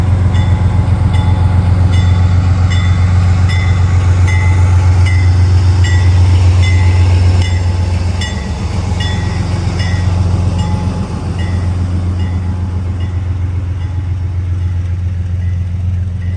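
Amtrak train departing a station rumbles loudly and continuously with a deep engine drone and rhythmic wheel clatter, close by, with no talk.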